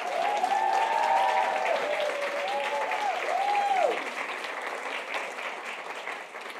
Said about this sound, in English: give a round of applause to all of the finalists.